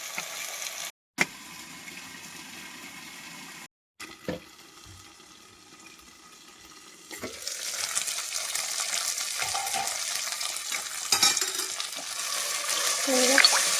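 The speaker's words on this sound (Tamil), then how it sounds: "நல்லா கொஞ்சம் சிம்லேயே வச்சு நல்லா வறுக்கட்டும்" Ivy gourd poriyal frying on a low flame, a soft steady sizzle with stirring that grows louder and denser in the second half, broken by brief silent gaps early on.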